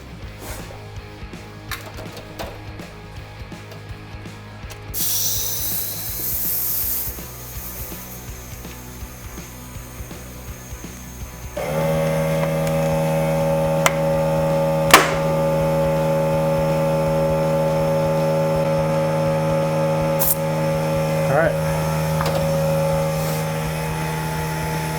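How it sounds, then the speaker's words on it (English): Pump inflating a mountain bike tire without sealant to seat the bead on a Trek Roscoe 8 with 29-inch wheels, a steady close hiss and whine building in loudness, with a sharp click partway through. "So I'm just gonna pump the tire up first with no sealant in it. Just get the bead set on it."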